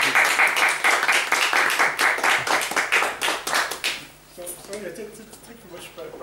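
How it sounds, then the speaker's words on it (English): An audience at a talk on Marian apparitions in Ireland claps heartily, loud rhythmic clapping that fades out after about four seconds, followed by someone speaking. "could you give a round of applause?"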